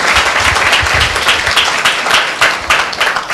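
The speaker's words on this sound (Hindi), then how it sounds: "जोरदार एक ताली प्रभु यीशु मसीह के नाम को देते हैं।" A church congregation at a Friday meeting breaks into loud, dense applause, many hands clapping together in an even, close burst that lasts a few seconds.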